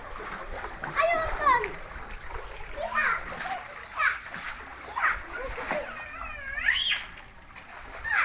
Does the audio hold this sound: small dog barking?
no